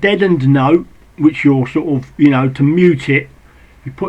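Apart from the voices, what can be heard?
None of the usual background noises is heard.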